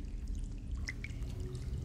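Faint steady pouring water in the horror game Among The Sleep, a soft continuous trickle with a few brighter droplet splashes, quiet and close.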